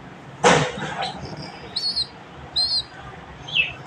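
Hand-fed young pigeons give a few short, high chirps and squeaks at close range over a faint background hum, with one louder call near the start.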